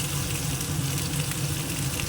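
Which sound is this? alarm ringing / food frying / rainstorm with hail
food frying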